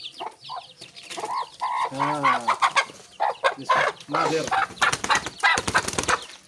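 Bangkok × Brazil Indonesian turkey hens cluck and squawk close by amid bursts of wing flapping, with a brief human exclamation among the commotion.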